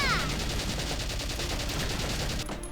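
Rapid machine-gun fire from the video game Valkyria Chronicles, a steady fast stream of evenly spaced shots lasting nearly three seconds, moderately loud with a brief high-pitched tone at the start.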